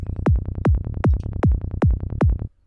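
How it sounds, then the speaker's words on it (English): A single Serum oscillator run through a filter with no other processing, playing a dark forest psytrance bass: a rapid, rolling pattern of short, punchy bass notes with a pulsing, driving rhythm, loud and alone. "without any processing, just this oscillator going through the filter, it sounds like this"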